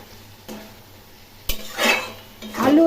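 A cooking pot of boiled potato and bitter gourd is lifted off the stove, with a few metal knocks and clinks of the pot and utensils, spaced apart and fairly close.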